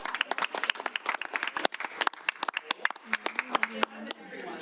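Applause and clapping fill a city council meeting room in Rochester after a big check presentation, with dense, irregular hand claps close by and voices talking over the noise.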